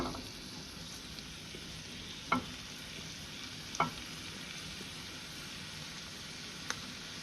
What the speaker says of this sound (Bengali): এখন আমি দিয়ে দিচ্ছি আমার এই কেটে রাখা চিকেনগুলো।